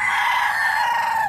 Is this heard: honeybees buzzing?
no